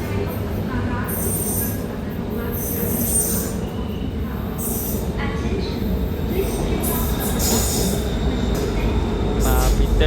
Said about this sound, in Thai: รถไฟมาแล้วครับ